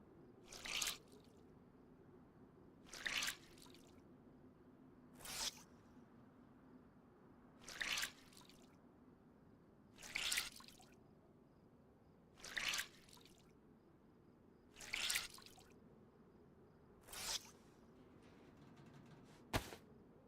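In the DayZ video game, a character wrings out wet clothes. Eight squishy, dripping water bursts repeat at an even pace about every two and a half seconds over a quiet low background hum.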